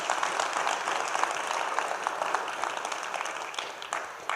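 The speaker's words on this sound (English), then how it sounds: "Let's give them a big round of applause." Steady, moderately distant crowd applause at a Miami-Dade civic week kickoff, honoring firefighters and pandemic front-line workers; continuous clapping throughout with no voices.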